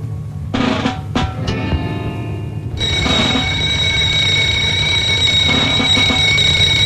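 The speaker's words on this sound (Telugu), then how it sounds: "ఎవరు అడుగు లోపల పెట్టినా తలుపు తెరిచినా అలారం బెల్స్ మోగుతాయి" Electric security alarm bells in an older Telugu film burst into a shrill, continuous ringing partway through. They follow a few brief clanks and sustain loudly to the end.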